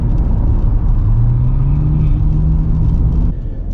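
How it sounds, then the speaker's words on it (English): Steady rush-hour road traffic heading into Phoenix, heard from inside a moving RV: a loud, continuous low rumble of engines and tire roar with a rising whir, then a slight easing near the end. "we're getting a little taste of LA traffic coming into Phoenix"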